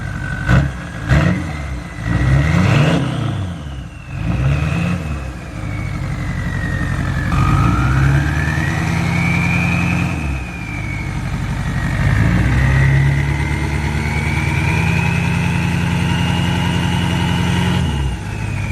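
A Nissan Titan XD truck engine fitted with a new turbo runs loudly nearby, starting with a few revs and then settling into a steady rumble as a high whistle rises and falls over it.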